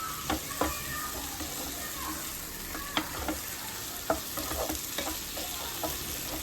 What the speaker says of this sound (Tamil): திருப்பி திருப்பி போட்டு நல்லா ரோஸ்ட் பண்ணி எடுக்கணும்